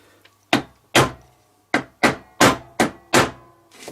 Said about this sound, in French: j'enfonce mon clou